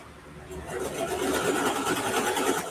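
A home sewing machine back stitches along the bottom of a quilted ruffle backpack, a steady rapid whirring run that swells and holds for a couple of seconds.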